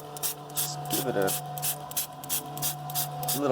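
A few quick hissing bursts from a handheld spray bottle misting water onto a golden concentrating wheel that is separating silicon die ash from crushed IC chips, with a steady hum and a voice talking over the sprays.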